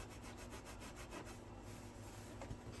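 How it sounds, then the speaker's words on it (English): Steel wool scuffs across a model starship saucer section in a steady, close back-and-forth rasping rhythm, quiet and continuous with no talking. "Good thing about the steel wool is that it can get into the nooks and crannies"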